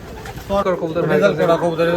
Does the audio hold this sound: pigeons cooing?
yes